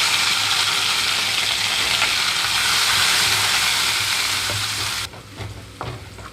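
Mint and chopped onions frying in hot oil for tomato fried rice, a loud, dense close sizzle that drops suddenly near the end and leaves quieter stirring clicks.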